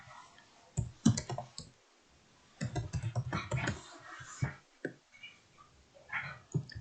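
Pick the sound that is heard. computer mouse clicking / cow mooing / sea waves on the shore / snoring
computer mouse clicking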